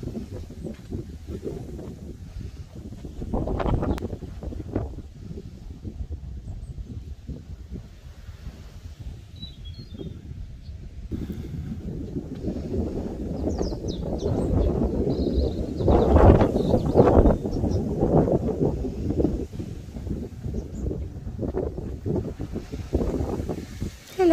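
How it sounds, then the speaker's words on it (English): Strong wind on the Cornish coast near Port Isaac buffets the microphone in a continuous low rumbling roar, swelling into heavier gusts around the middle before easing slightly. "if it's this windy"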